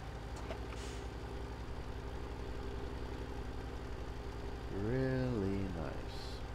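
A Case tractor engine idles with a steady low, even drone throughout, then a brief swelling tone rises and falls near the end before the idle settles again.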